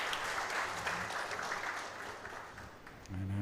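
A crowd claps steadily for a shot at the Maldives Open 2024 ten-ball pool championship, a dense patter of applause that fades a little before a commentator's voice comes in at the end.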